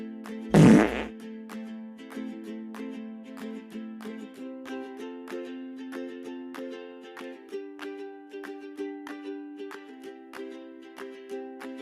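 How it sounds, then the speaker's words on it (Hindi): A single loud, brief cartoon-style fart after eating parathas bursts out near the start, then gives way to a long stretch of light melodic background music. "जिसको देखो गांव में पादते फिर रहा है।"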